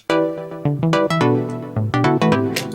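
Bright plucked saw-wave synth notes without a pitch attack in a short melodic run, each with a sharp buzzy onset and quick decay, played alone and up close.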